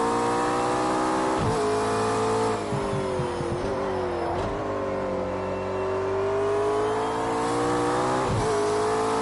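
Engine of a Porsche, Ferrari or McLaren supercar on a timed lap, revving hard near and steady for about nine seconds, with pitch sweeping up and dropping at each gear change and no talking.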